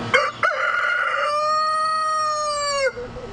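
A single rooster crows loudly and close by in a backyard flock, a long drawn-out cock-a-doodle-doo that rises, holds steady, and trails off.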